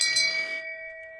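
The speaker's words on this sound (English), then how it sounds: "Shame Bell." Single struck bell rings out once with a bright attack, then a clear ringing tone that hangs and slowly decays into silence.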